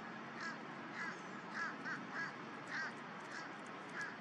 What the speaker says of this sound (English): those crows calling in the background